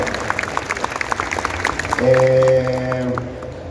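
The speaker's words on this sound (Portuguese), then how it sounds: "Uma salva de palmas pro Kurata-san fazendo esse papel" A convention panel audience at Anime Friends claps for actor Tetsuo Kurata, scattered at first and then joined by a sustained tone and voices that partly mask the applause.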